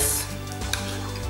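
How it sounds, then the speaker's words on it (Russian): Egg batter with mayonnaise being stirred in a bowl, a steady scraping swirl with a couple of brighter clinks of the utensil against the side near the end. "Перемешиваем"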